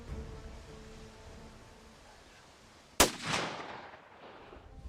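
A single rifle shot cracks during a fallow deer hunt in Croatia, a sharp blast followed by a rolling echo that fades over quiet outdoor ambience.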